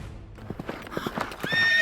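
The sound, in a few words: horse neighing and galloping, story sound effect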